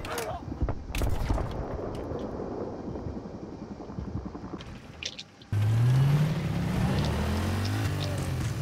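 A vehicle in Battlefield 3 gameplay rumbles and whirs through a capture-the-flag match, with sharp gunfire cracks and clatter early on, then a loud, steady engine drone with a rising tone taking over for the final few seconds.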